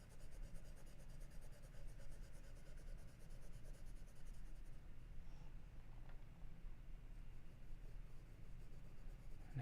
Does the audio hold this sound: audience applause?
no